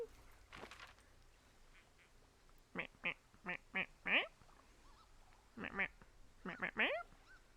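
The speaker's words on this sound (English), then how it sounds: "I'm guessing that's a kind of duck call I'm hearing" A duck calls in Firewatch's outdoor wilderness, giving a few clustered quacks in two bursts that are moderately loud against a quiet ambient background.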